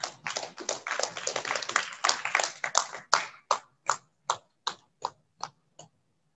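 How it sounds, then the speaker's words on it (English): Applause at an agricultural research workshop in Nigeria welcoming a speaker: a cluster of people clapping together at first, thinning into a few isolated, evenly spaced claps that fade out, fairly close and quiet. "Can we give him a round of applause as he comes?"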